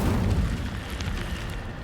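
The Incendio fire spell cast in Hogwarts Legacy, a low, rumbling whoosh of flame that sounds continuous and moderately loud, with faint bright crackles on top.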